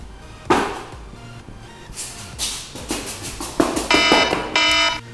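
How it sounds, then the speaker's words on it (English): Kitchen-style countdown timer beeping during coolant bleeding on a BMW N54 engine (135i/335i/535i), a run of bright electronic beeps in the second half, loud and close, with some handling clatter earlier. "the timer just went off"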